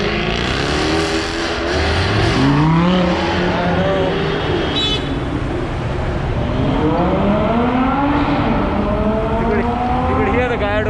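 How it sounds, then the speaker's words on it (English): Lamborghini Gallardo supercars roar past on a Republic Day drive in Pune, loud revving engines rising and falling in pitch as they fly by close, with voices mixed in. "You could hear the Gallardo guys flying by."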